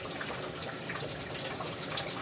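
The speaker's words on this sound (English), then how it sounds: "here's the water pouring in through the red tape" Water pouring steadily into a basement through a leaking window frame sealed with red tape, a continuous gushing splash that stays close and even throughout with no talk over it.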